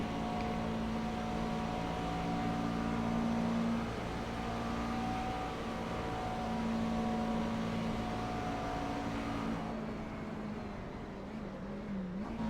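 Racing car engine held flat out along a straight at Spa in a racing video game, a steady droning whine with tonal harmonics that holds a constant pitch before shifting slightly near the end.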